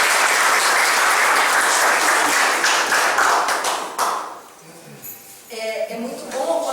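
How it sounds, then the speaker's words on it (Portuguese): A loud round of applause from a gathered group fills the first four seconds, then fades out as a voice and light room sounds take over. "Eu queria uma salva de palmas para ela."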